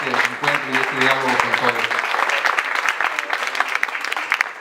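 An audience at an architecture colloquium in Aguascalientes breaks into steady, dense applause that holds for several seconds, with a voice audible over the opening stretch.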